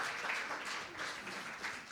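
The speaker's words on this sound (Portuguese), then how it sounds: "Uma salva de palmas para Jesus" Faint, steady applause from a church congregation during a worship service, a soft wash of clapping throughout.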